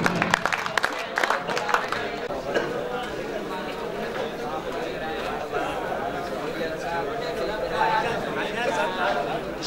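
Audience applause and crowd noise greeting an internationally renowned poet at a Hindi-Urdu poetry event hosted by an educational institution: a steady, dense wash of clapping and chatter holds through the whole stretch at moderate loudness.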